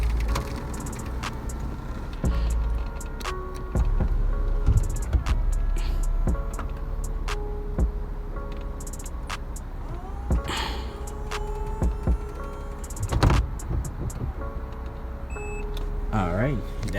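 A 2008-2014 Infiniti G37S convertible's power hardtop retracts, electric motors whirring and clunking as the trunk lid moves, with short electronic beeps and someone talking over it in a quiet garage-like space.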